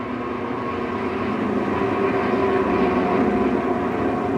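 A new King Canada wood lathe spins freely at 6,800 RPM with no wood mounted, giving a steady, loud mechanical whir and hum that holds constant throughout with no speech.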